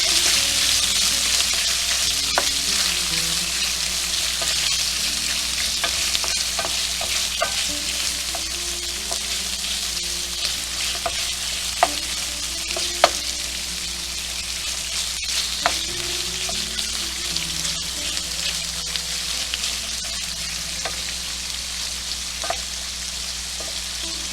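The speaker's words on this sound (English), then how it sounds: "Get this all stirred up." Seafood paella with smoked sausage frying in a pan: a constant bright sizzle holds throughout while a utensil stirs and scrapes at irregular intervals, close and fairly loud.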